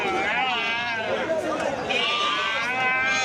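Sheep and goats bleat in overlapping cries at a busy Pambukovil livestock market, heard close over a constant background of people chattering and milling about.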